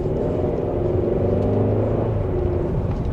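Steady engine drone and road rumble from a 2026 Kia K5 GT being driven with automatic shifting, heard from inside the cabin as a continuous, even hum with no voices.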